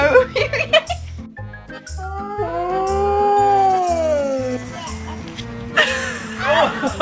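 Dog giving soft huffing whisper barks and then a long rising and falling howl, close up, with a person talking and giggling alongside and rhythmic music underneath.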